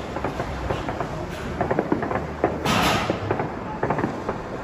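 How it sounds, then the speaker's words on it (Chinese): Firecrackers set off outdoors for Chinese New Year celebrations, a scattered run of sharp pops and crackles at a middle distance, with one louder burst partway through, in rainy weather. "哇，这鞭炮声，"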